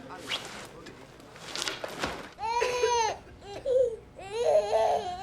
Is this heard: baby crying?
yes